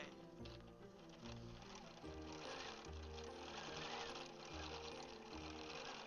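A Bernina 790 Pro sewing machine quilting, a continuous fast rhythmic needle clatter with pulsing motor hum, close and steady throughout.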